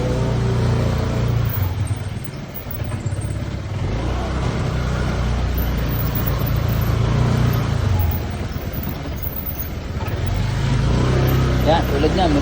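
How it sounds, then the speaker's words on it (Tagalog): A motorcycle comes head-on and squeezes past on a narrow village road while the recording car's engine rumbles steadily underneath, its own motor note swelling as it nears and fading after it goes by. "tulad niyan, may kasalubong na motor"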